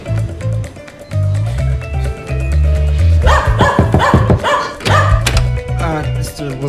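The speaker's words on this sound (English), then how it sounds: "You can't just bark like that." A dog barks repeatedly in loud bursts over a busy music bed, the barks coming in a quick run near the middle.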